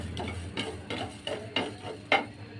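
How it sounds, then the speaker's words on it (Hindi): Cumin and coriander seeds dry-roasting in a frying pan, stirred in a steady rhythm of about five soft scraping strokes with a light rustling crackle, close and fairly quiet with no voices. "मसालों को मैं भून रही हूँ"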